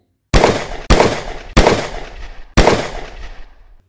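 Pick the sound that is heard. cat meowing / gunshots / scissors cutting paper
gunshots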